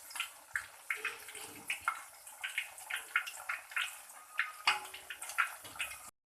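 Ghewar batter poured into a hole in hot ghee crackles and spatters in quick, repeated bursts of frying, fairly soft and close, with no talking.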